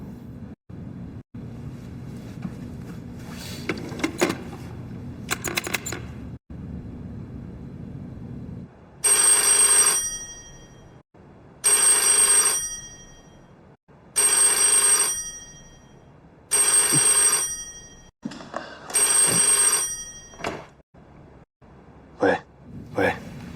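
A telephone on a dedicated line to a quarantine zone rings in a spy drama scene: five loud, evenly spaced electronic rings, each lasting about a second, after a stretch of low room noise.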